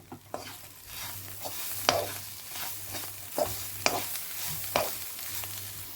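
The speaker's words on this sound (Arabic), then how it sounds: "هنحط بقى الخلطة بتاعتي واقلب كله مع بعض" A spice mixture is stirred in a frying pan for mushroom piccata, with repeated scraping strokes of a utensil at an irregular rhythm over a soft background sizzle, close and clear with no talk.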